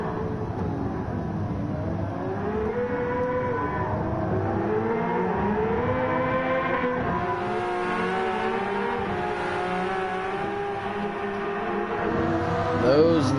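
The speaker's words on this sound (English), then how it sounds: "Those Nismo GTRs sound closer than they are." Nismo GT-R race car engines in Gran Turismo 7 during a 90s vintage Le Mans endurance race, a steady overlapping drone of revving, shifting engines with rising and falling pitch throughout, held at an even level.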